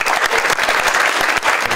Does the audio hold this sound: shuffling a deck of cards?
no